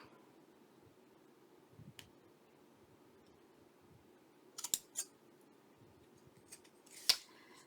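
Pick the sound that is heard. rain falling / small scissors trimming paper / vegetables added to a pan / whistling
small scissors trimming paper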